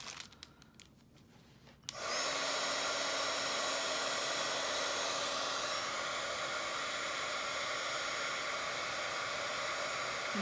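A handheld heat tool blowing hot air while heat-embossing a Bible journaling page starts after about two seconds of quiet handling, then runs as a loud, steady, close whoosh with a faint motor whine until the end.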